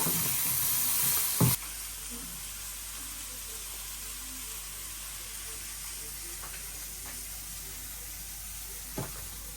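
Bitter gourd (karela) fries in a pan with a steady, soft broadband sizzle. A louder burst comes at the start, with a couple of faint clicks later, and no talk is heard.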